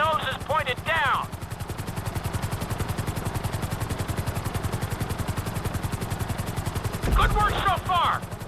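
Helicopter in the video game GTA V, a steady loud rotor chop running throughout with engine drone, while a voice talks briefly at the start and again near the end.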